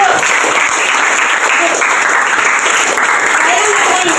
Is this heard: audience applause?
yes